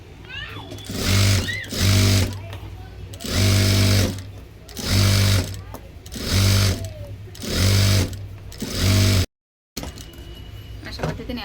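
A sewing machine runs in repeated bursts, topstitching a waistband on a blouse, with six loud stitching runs separated by short pauses, a brief silence near the end, and someone talking between the runs.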